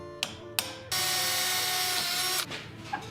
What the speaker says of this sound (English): just go over to the grinder and shape the top curve in there